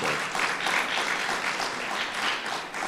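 Steady applause from an audience at a governor's public announcement about a veterans memorial in Perth Amboy, a dense, even wash of clapping lasting a few seconds with no voice over it.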